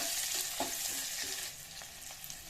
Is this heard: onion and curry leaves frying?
yes